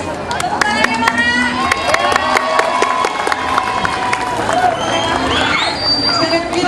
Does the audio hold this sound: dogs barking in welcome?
no